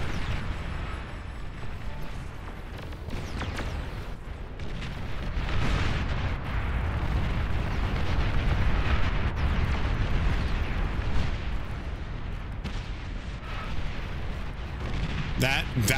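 Chained explosions of mines in the strategy game Beyond All Reason, a continuous loud barrage of booms and bursting blasts rolling on for several seconds, with a voice talking over them.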